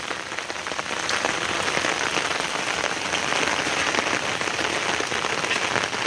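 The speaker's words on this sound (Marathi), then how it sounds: "पाऊस का थांबत नाही अजून रिमझिम रिमझिम चालूच आहे" Steady light rain drizzling in Konkan, a dense even patter of fine drops that holds constant throughout with no other sounds.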